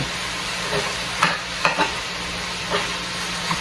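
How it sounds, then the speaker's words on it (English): Chicken cooking in a cast iron pot sizzles steadily while a utensil breaks it up, with several distinct scraping knocks punctuating the continuous frying hiss. "when it starts to get soft, what I do is I'll start breaking it up a little bit"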